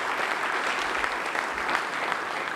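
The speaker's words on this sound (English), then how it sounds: "You guys deserve a heck of a round of applause" A crowd claps steadily at an outdoor track and field groundbreaking ceremony, dense even applause filling the whole moment without a break.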